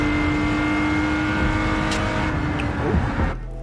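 A car in Gran Turismo 7 drones with a steady, loud engine note held at high revs, then the pitch shifts and tapers as it lifts off near the end, continuous and without talk.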